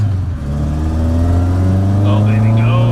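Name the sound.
car engine accelerating up to speed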